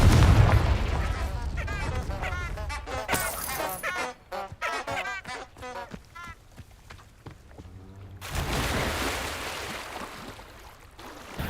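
Confringo spell blasts in Hogwarts Legacy thud and rumble, a heavy explosion at the start and another swell later. Voices speak loudly between the booms.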